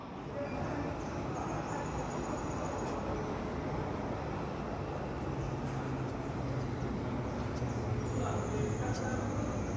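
Steady, continuous rumble and rattle of the cable-pulled Penang Hill funicular train climbing toward 740 metres, heard from inside the car, with faint background voices.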